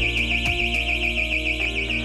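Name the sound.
panic bar door main alarm sounding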